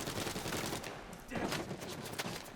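Dense gunfire fills a firefight in Uncharted 4 Legacy of Thieves Collection played on a Steam Deck, shots cracking in steady bursts over busy game noise, loud and continuous throughout.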